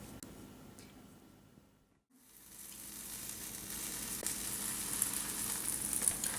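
An Irish soda bread corned beef sandwich brushed with butter is laid into a hot pan, and a steady bright sizzle rises after a brief quiet moment and keeps building, with no talking.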